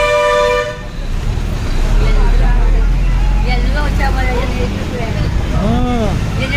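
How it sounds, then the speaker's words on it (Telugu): A bus to Kothuru Lanka pulls out of Kolluru in the evening, its engine rumbling steadily. Sharp horn toots sound at the start and again near the end, and voices talk over the road noise. "కొత్తూరు లంక బస్సు కొల్లూరులో బయలుదేరింది"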